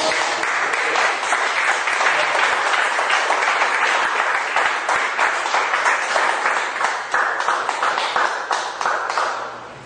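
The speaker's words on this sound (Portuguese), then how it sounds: "Aplauda o Senhor Jesus." A church congregation applauds during a Portuguese-language service, a loud, dense, sustained burst of clapping with rapid overlapping hand claps that stays strong for about ten seconds before easing slightly at the end, with no talk over it.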